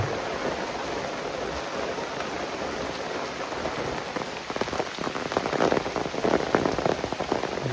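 Heavy rain pours steadily over an areca and coffee plantation in Sakleshpur, a dense, continuous hiss of drops on leaves that grows slightly heavier and more spattering toward the end.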